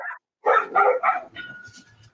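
Dog barks in a burst of three loud, close yips with short gaps between them, followed by softer whimpering noises, amid a lively home setting.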